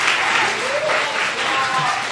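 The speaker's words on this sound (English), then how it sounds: "they're going to give them a round of applause" A middle school chapel audience applauds students as they come up to lead worship; clapping fills the room throughout, with voices and sung or spoken tones mixed in underneath.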